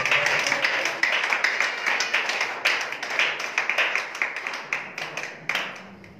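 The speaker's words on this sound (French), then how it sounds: "Acclamons le Seigneur pour ce qu'il fait" A church congregation claps in a steady, rhythmic beat, many hands striking together at a brisk even pace, moderately close and filling the room with no speech on top.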